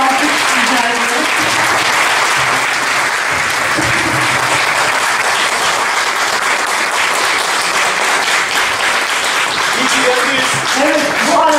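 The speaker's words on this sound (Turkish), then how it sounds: "kendilerine güçlü bir alkış rica ediyoruz." Steady, full applause from a sizable crowd at a Turkish folk music night, dense clapping sustained throughout with a few faint voices mixed in.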